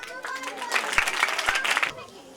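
Audience applause at a church Sunday School teachers' appreciation event swells for about a second, a dense patter of clapping mixed with a voice or tonal sound underneath.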